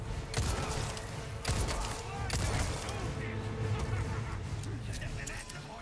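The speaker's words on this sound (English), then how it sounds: "Please, shoot them!" Gunshots in the Resident Evil 4 remake on its hardest difficulty, a few sharp reports standing out over dense game sound and music while a player speaks throughout.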